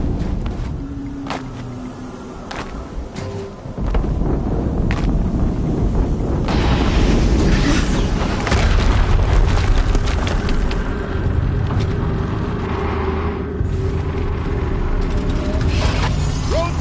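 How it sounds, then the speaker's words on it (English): A loud, sustained blast rumbles out in the Horizon Zero Dawn game at Maker's End, opening with scattered clanks and then swelling into a heavy, continuous roar that fills the rest of the scene without any speech. "Another explosion."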